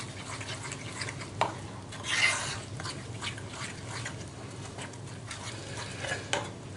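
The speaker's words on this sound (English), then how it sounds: "Just have to keep mixing this in. What we're looking for is a nice stiff batter." Cauliflower pakora batter is stirred in a bowl, producing soft repeated scraping and wet mixing sounds close up, with a few louder clinks against the bowl.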